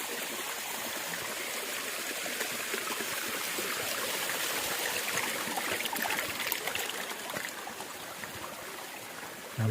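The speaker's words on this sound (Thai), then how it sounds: "น้ำตกลานลัก" Water rushing over rocks at Lan Rak waterfall in Nakhon Nayok, Thailand, a steady, full broadband roar heard close up for the whole stretch, with a brief bump at the very end.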